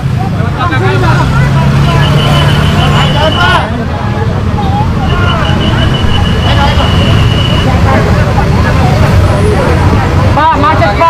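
Dense jammed road traffic during a street protest in Indonesia, with a steady roar of idling and creeping engines, loud close vehicle noise, a sustained horn tone and people talking and shouting nearby throughout.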